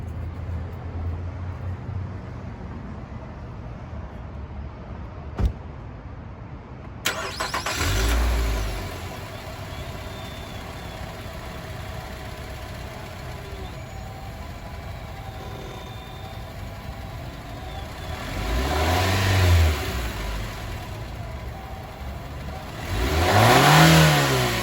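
A Nissan Altima with its stock intake starts from cold, catches with a burst and settles into a steady idle, then is revved twice, each rev swelling and falling away, recorded close to the engine.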